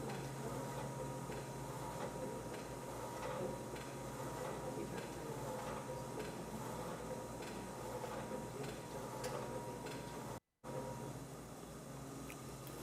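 A Bizerba meat slicer with its conveyor belt running gives a steady, close mechanical whir and rattle that continues almost unbroken, with a momentary cutout near the end before resuming.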